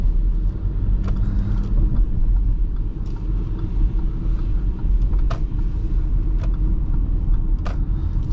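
A 2016 Audi Q5 with a supercharged 3.0T engine on the move, giving a steady, loud low rumble of engine and road noise throughout, with no distinct whine standing out.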